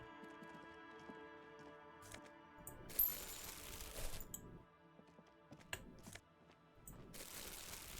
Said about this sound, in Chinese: 好多垃圾收垃圾的声音哦